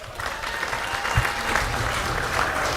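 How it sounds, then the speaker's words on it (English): Audience at a motorsport panel evening applauding, a steady wash of clapping throughout with a few louder claps, fairly close and without talk. "can we have a huge round of applause for all of our guests tonight?"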